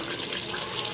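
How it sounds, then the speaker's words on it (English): Water pours steadily into a cooking pot while chicken lazeez is being made, a continuous close splashing rush at moderate volume with no talking. "We have to add some water"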